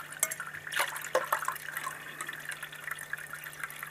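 Coolant drains from a Honda CBR600 motorcycle being converted to electric, with close irregular splashing, dripping and trickling liquid over a faint steady hum, and no talking.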